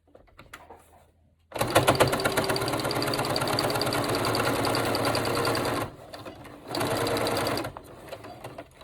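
A sewing machine runs a long basting line around the pocket of a fabric scrub hat, a fast steady mechanical whir that starts abruptly, pauses briefly, then resumes.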